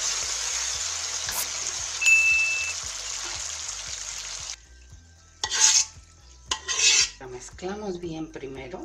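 Refried beans stirred in a pot, a spoon scraping and rasping steadily against the pot for several seconds before the contents go quiet, then a few louder scrapes and clinks near the end.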